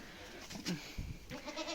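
Nubian goats bleating on a farm, a short wavering bleat rising out of low background noise, followed by softer animal sounds and faint rustling nearby.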